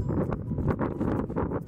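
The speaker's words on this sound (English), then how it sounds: "So bear with me on the wind." Gusty wind buffets the microphone outdoors at the Giant Cross in Groom, Texas, blowing about 20 to 25 miles per hour; a loud, continuous rumbling roar swells and dips with each gust, with no voices.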